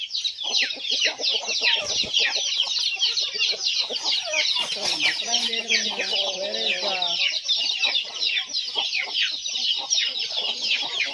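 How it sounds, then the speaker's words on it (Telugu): Two jungle fowl hens cluck in a dense, continuous chorus of high chirps and calls, close by, with a few lower clucks in the middle and no talk. "రెండు కారుకోడి పెట్టలు"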